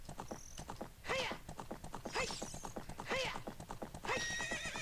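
Galloping horse in the Zelda Spaceworld '97 demo on original hardware: steady clip-clop hoofbeats with a bright whinny rising about once a second, close and clear with no talking.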